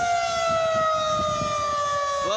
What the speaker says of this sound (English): That's the siren test here in Van Wert, Ohio.